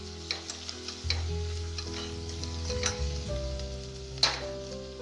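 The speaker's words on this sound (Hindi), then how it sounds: "इसको मसाले को हम अच्छे से मिक्स कर लेंगे। पूरे मसाले को मिक्स करना है।" A spoon stirs masala with kasuri methi and cumin in a pan, giving a close, crackling sizzle with repeated scraping strokes and a sharp clack near the end.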